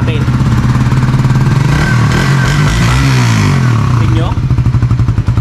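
A Suzuki Raider FI 150 motorcycle cranks on its electric starter and catches, settling into a loud, close, rapid clattering idle with a brief rev, while someone talks over it.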